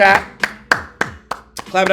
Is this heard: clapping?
yes